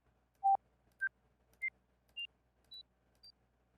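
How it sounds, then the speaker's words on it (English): Six short synth notes from Dexed, the FM synthesizer plugin, step upward in pitch at an even pace, each quieter than the last, the first loudest and the final ones faint and thin, with no voices. "the notes here for around 2 octaves kept the same level behavior, but then it started to exponentially decrease"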